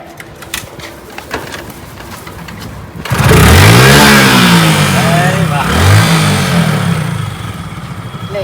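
A motorcycle kicks into life and revs hard, a loud close engine roar that swells, dips and surges again with rising revving sweeps, while people talk and shout around it before and during the noise.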